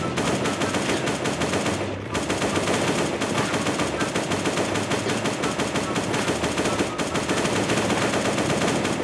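Automatic gunfire in the video game Last Day on Earth, a continuous loud rattle of rapid shots that goes on almost without pause, with a brief dip near two seconds.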